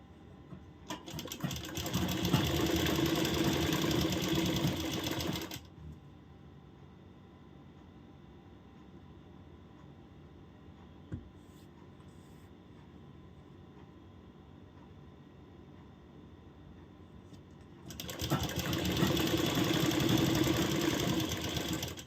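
Sewing machine running a straight stitch along a princess-cut blouse seam with a half-inch margin, two steady whirring bursts separated by a long quiet pause, close and fairly loud.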